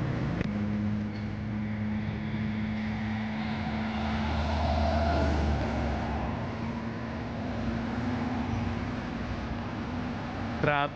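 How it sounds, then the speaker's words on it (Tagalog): Expressway traffic rumbles steadily as cars pass by, a continuous broad drone with a low engine tone running throughout, heard from the roadside while out jogging on the service road. "Traffic sa expressway."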